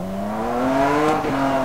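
Lamborghini Countach engine in the Need for Speed video game, a steady harmonic drone that climbs gradually in pitch as it revs, loud and close with a brief shift near the end.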